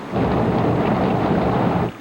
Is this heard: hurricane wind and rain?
yes